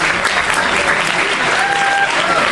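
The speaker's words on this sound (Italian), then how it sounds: "Rubo la parola a Linda, che è la vera organizzatrice dell'Ombra di Galileo, a cui gli va un applauso" Steady, dense audience applause fills a lecture hall at a talk on food chemistry, a continuous wash of many hands clapping at even loudness with no voices.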